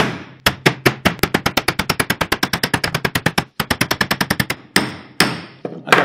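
A Coco Jack opener is hammered into a young coconut with a rapid run of sharp, evenly spaced knocks, dozens of close, loud strikes with a brief pause and a few slower final hits.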